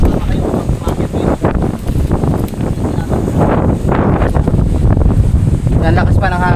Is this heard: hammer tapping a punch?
no